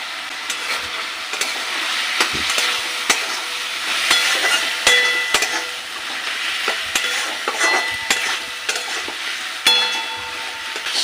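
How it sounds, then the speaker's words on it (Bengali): Fish head with spices, salt, turmeric, chili powder and sugar fries in a pan with a little water, a steady close sizzle broken by repeated clinks and scrapes of stirring, with no talk. "সব কিছু 5 মিনিটের মতো ভেজে নেব।"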